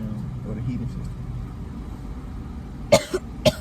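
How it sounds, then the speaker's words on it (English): Three sharp coughs come close together near the end, loud and near, following a steady low rumble of a car interior. "Come on, cough over there, man."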